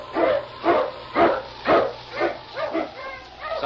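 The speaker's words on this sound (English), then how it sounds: "Huskies! King, the swiftest, strongest of Eskimo lead dogs, blazes the trail through storm and snow for Sergeant Preston" Eskimo husky sled dogs bark in a steady series of about seven loud, evenly spaced barks in an old-time radio drama setting, with no talk over them.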